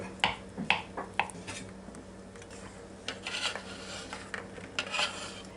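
Boiled eggs chopped with a knife, several sharp clicking taps in a quick uneven run followed by softer scraping, close and fairly quiet in a kitchen.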